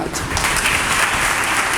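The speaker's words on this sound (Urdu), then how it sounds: "ایک تالیاں کوائر کے لیے ہونی چاہیے" Audience applause for a church choir after hymns during a sermon service, a steady wash of clapping from a crowd, loud and continuous throughout.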